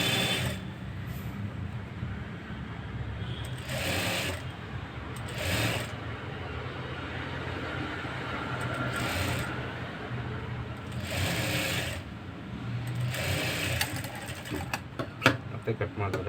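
A sewing machine runs in short repeated bursts while stitching folded piping onto a blouse, its mechanical whir rising and falling in several near, steady runs with brief pauses between.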